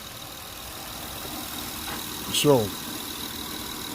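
The 3.0 VTEC V6 of a 2004 Honda Accord idles with its cover off, a low, steady hum under a brief spoken word near the middle.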